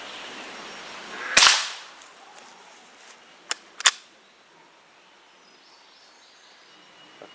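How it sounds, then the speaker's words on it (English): A QB78 air rifle fires once at a swinging paper target, a sharp loud crack followed by a quick decaying tail, then two fainter metallic ticks a couple of seconds later as the target is struck and swings, with quiet outdoor background. "I'm going to shoot that swinging target"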